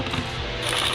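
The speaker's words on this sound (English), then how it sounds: "If you have a ratcheting tool like this from Milwaukee, it comes in really handy for these." A Milwaukee ratcheting tool tightens dash fasteners on a 1970-1973 Camaro, giving a short, close burst of mechanical ratcheting clicks lasting about a second.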